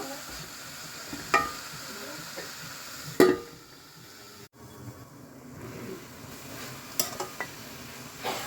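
Cabbage and green chilies cook in a pan with a soft, steady sizzle, broken by a few sharp clanks and scrapes of a utensil stirring against the metal.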